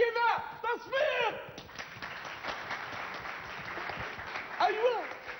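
Applause from a theatre audience at a 2010 Omani stage play, a clatter of clapping under excited speaking voices that rises again near the end.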